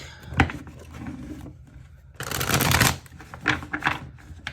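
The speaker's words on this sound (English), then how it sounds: "I actually think I want to pull a tarot card too anyway" A tarot card deck is shuffled close up, with a few soft riffles and taps early, then a dense burst of rapid card flutter, followed by lighter scattered card clicks.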